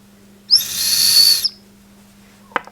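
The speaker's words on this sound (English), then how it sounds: "this little headless burnt terracotta figurine that I found was also a whistle" A small headless burnt terracotta figurine whistle gives one sustained, breathy high-pitched tone lasting about a second, loud and close, followed by a short faint knock.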